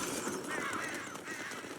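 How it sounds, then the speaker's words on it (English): A glass bottle shattering after a gunshot in the video game Red Dead Redemption 2, a brief bright burst of breaking glass with a trailing scatter of shards, at moderate volume with no talking. "shoot the highlighted bottle, and you'll hear it shatter."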